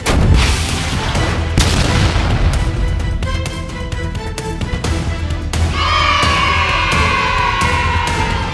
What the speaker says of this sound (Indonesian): Aku akan menembaknya sekarang.